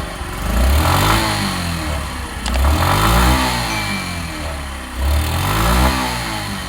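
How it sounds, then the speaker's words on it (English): A 2001 Yamaha YB1 café racer motorcycle engine is revved twice up close, each blip rising sharply and falling back to a rough idle, loud and without talk. "And we'll give it a quick rev and you'll hear it then."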